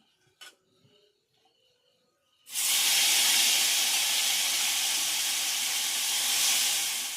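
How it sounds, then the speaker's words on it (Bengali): Small river fish drop into hot oil in a wok and burst into a loud, sustained sizzle after a few faint clinks of utensils, the frying hiss holding steady to the end. "আর কিছু তেল দিয়ে দেবো কড়াতে। বাকি মাছগুলো ভেজে নিচ্ছি।"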